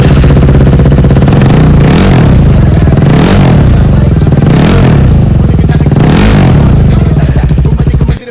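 A motorcycle engine runs loud and close, a rough steady idle with a rhythmic throb that swells about every second and a half, then cuts off at the end; no talking.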